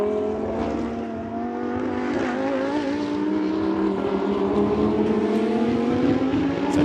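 Lamborghini Super Trofeo race cars in a 2019 race at Jerez roar steadily at close range, their engine notes rising slowly together into a continuous, loud mechanical drone with no talk.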